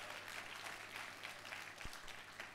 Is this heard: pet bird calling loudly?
no